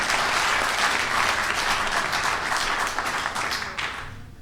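Sustained applause from a lecture audience fills the room, loud and steady throughout before thinning slightly at the end.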